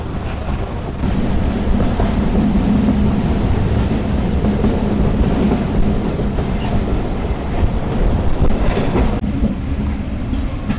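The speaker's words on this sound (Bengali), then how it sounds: "এক পশলা বৃষ্টি শেষে আমাদের ট্রেন আবার ছুটে চলছে রাজশাহীর উদ্দেশ্যে।" Onboard the Banglabandha Express, heading for Rajshahi after a rain shower, a loud, steady rumble of wheels and carriage noise runs for the whole stretch, with faint rhythmic clatter and no talking.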